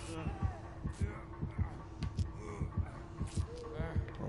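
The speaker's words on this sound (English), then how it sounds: "I know, I feel the heartbeat." A video game heartbeat signalling an approaching killer, a steady, deep, evenly paced double thump repeating about every half second over a low hum.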